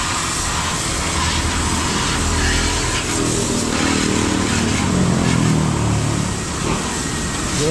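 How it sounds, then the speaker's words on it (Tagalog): A loud motorcycle engine rumbles and rises in pitch as it revs, swelling toward the end before easing off, with broadband road or wind noise throughout. "Grabe ang motor na yan."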